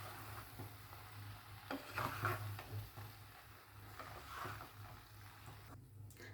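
Spoon stirring pepper into masala macaroni pasta in a pan, soft scraping and sizzling that comes and goes, with a steady low hum beneath.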